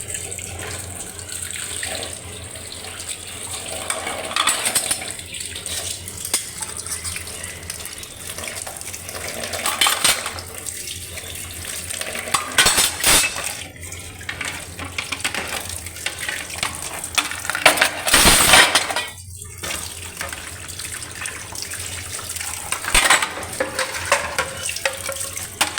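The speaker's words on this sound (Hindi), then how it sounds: "ये मेरी बेटी बर्तन धो रही है।" Running tap water splashes steadily into a kitchen sink as dishes are washed, with occasional clinks and louder gushes, close and continuous, with no talking.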